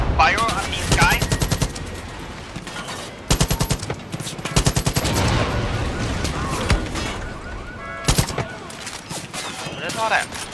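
Rapid bursts of automatic gunfire in the video game Far Cry New Dawn, loud and dense, coming in rattling volleys with brief pauses between, layered with other combat noise.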